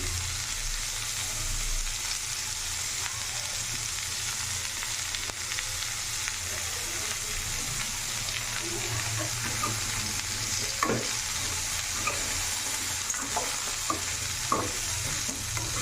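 Bangalore brinjal pieces with coconut being stirred in a frying pan, a steady close sizzle throughout with occasional scraping knocks of the spoon against the pan.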